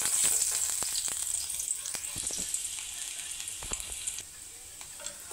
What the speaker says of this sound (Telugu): నూనె అయితే బాగా వేడైంది. కట్ చేసి పెట్టుకున్న ఎల్లుల్లిపాయ ముక్కలు కూడా వేసేసుకుందాం.